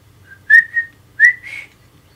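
A person whistles an imitation of a pretty bird song outdoors: two short rising-and-falling phrases, clear and close, with a low hum beneath.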